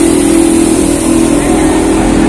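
A Damri airport bus with a Golden Dragon engine and a Scorpion King body sits at the Bungurasih terminal arrival shelter, giving a loud, steady engine hum and drone up close, with no speech.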